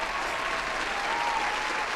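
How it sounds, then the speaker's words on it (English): A dense, steady round of applause from a crowd on a gaming podcast episode, loud and continuous for two seconds with no voices over it. "Here is your round of applause."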